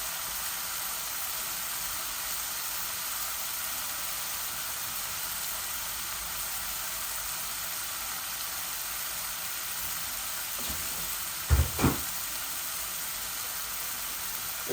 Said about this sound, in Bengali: এই দেখো আমার মশলাগুলা আমি এইভাবে আস্তে আস্তে পেঁয়াজ রাখি দিই